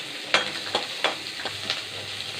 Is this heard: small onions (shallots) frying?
yes